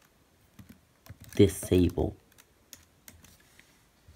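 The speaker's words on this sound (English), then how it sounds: "I'm typing it slowly just so you can read it" Keys clack on a Mac computer keyboard as a Terminal command is typed, close and distinct, with someone speaking over the keystrokes.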